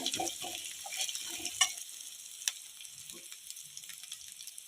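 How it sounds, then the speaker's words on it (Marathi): Ground spice paste being stir-fried with curry leaves and dry coconut powder in a pan, a quiet, soft sizzle with a few scraping spoon strokes and light clinks over a low background hiss. "वाटण घालून चांगलं परतून घेऊया कढीपत्ता घालूया चमचा सुकं खोबऱ्याचं कूट घालूया"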